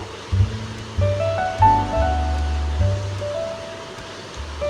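Water boiling in a pan for potol dorma, a steady low bubbling and hiss with irregular gurgling pops, close and moderately loud.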